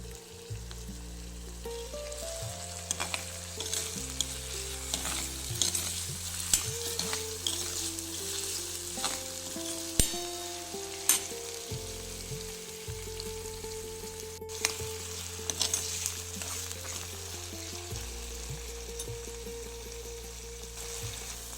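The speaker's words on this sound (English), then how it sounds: "Let the green peas cook a little." Green peas and cabbage with coriander frying in a pan for a sabzi, giving a continuous close sizzle with stirring scrapes and faint music underneath.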